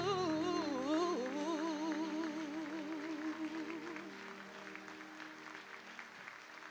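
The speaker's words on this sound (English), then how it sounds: "That performance deserves another applause." Applause rises from an audience at a graduation commencement ceremony as a sung note fades out, then the clapping continues steadily and gradually softens.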